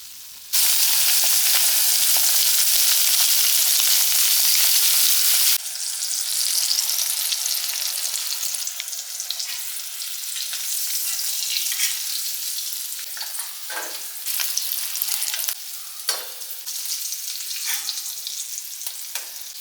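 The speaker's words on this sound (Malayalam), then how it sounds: "ഇനിയിപ്പോൾ നമുക്ക് ഉണക്കമീൻ വറക്കുകയാണ്" Dried fish, dried sole (manthal), fries in a pan with a loud, steady sizzle and crackle close by, briefly louder at the start, then broken by occasional stirring scrapes.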